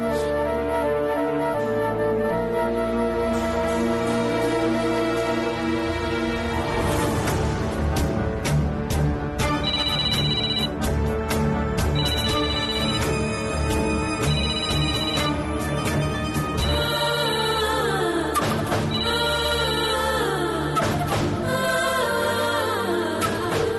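A phone's melodic ringtone plays on and on for over twenty seconds without being answered, with its tune repeating at a steady, moderate level and no one speaking.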